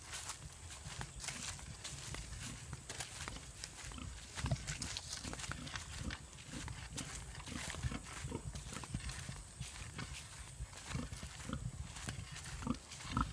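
Pig kept at a relative's farm plot on a hillside in the Philippines, heard as repeated grunts and rustling shuffles at moderate distance over steady outdoor background noise.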